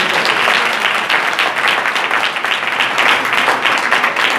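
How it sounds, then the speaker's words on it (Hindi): A church congregation at a Hindi sermon claps steadily in thanks to Jesus Christ, loud, dense and continuous applause that fills the room from start to finish with no clear voice over it. "ताली बजाकर यीशु मसीह के लिए धन्यवाद।"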